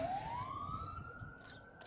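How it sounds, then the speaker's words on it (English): An ambulance siren passes along Highway 98, a single long rising wail heard fairly faintly over low traffic rumble, with no talking. "We have an ambulance going by."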